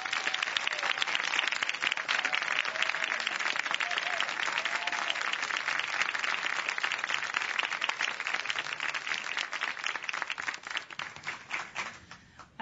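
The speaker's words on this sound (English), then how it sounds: "I'd say you deserve that applause." A studio audience gives sustained applause for a foot surgeon, dense clapping that holds loud and steady before thinning and fading out near the end.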